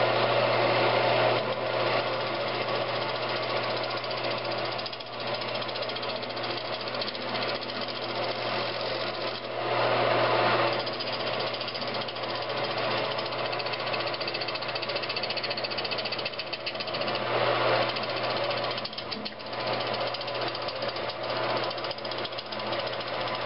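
A wood lathe turns a scrap-wood vase while a tenon is cut, giving a steady motor hum with a rough, chattering scrape that swells and eases every few seconds as the tool works the spinning wood.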